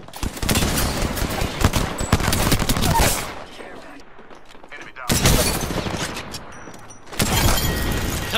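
Bursts of automatic gunfire from the video game Apex Legends, loud rapid volleys in three waves separated by brief quieter gaps with faint voice.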